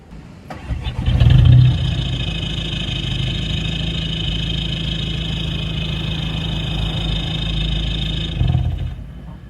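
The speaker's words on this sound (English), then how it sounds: "test revving to 2K, 3000 and then 4000 and see how loud my car is at each one" A car engine, recorded close to its exhaust, starts with a loud burst and then holds a steady, fairly loud idle with a strong low hum, picking up slightly again near the end.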